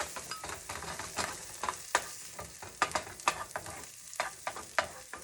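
Food sautés in a pan for a bulgur wheat meal, a close crackling sizzle broken by sharp scraping and clicking as it is stirred.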